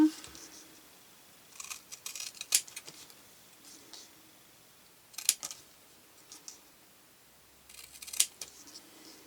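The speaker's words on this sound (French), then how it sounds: "Et on va le couper plus juste." Crisp snips of scissors trimming paper for a card-making craft, coming in three short clusters of quick cuts separated by quiet pauses, close and clear against a faint room background.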